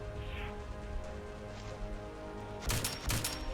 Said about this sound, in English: let's move over to our assault rifle